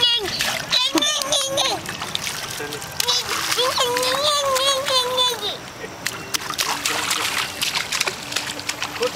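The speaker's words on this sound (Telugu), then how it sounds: "వాటర్లో జంప్ చేస్తున్నాడు." A child jumps and splashes in swimming water, with repeated splashes and trickling under almost continuous chatter from children and adults nearby.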